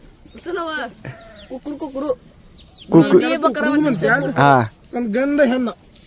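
Sheep in a Dhangar shepherd's flock bleat in a few loud, wavering calls, mixed in with a man's close-up talk that runs through most of the stretch.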